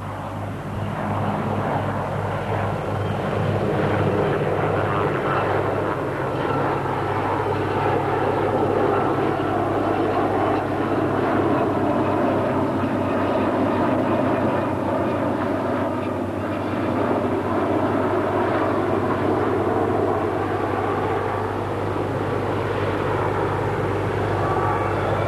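A Harrier jump jet flies past in formation with Sea King, Wessex and Gazelle research helicopters at RAE Bedford in 1992, making a loud, steady roar of jet and rotor engines that fills the whole stretch without a break.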